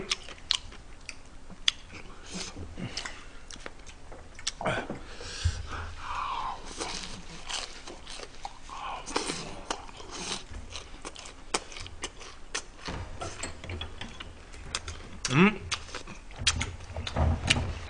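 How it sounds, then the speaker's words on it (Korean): Close-up smacking and chewing while eating steak, sweet and sour pork and seafood jjamppong, with wet clicks and mouth noises repeating irregularly throughout. "먹방이 쩝쩝대지"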